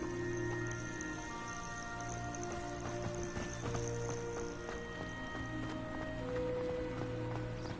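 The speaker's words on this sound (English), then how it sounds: "Do you think Poppy's already seen the hippogriffs?" Hippogriffs in a Hogwarts-style video game, heard as steady clip-clop hoof steps and creature sounds over a continuous ambient music and nature bed, with no one speaking.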